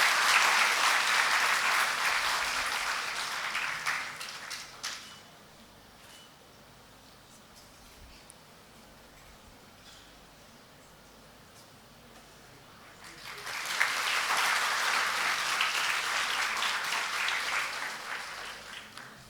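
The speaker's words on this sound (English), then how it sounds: "Can we have a huge round of applause for Dr." Enthusiastic audience applause after a guest lecture, a dense burst of clapping that dies down to near silence midway, then swells again into a second loud round.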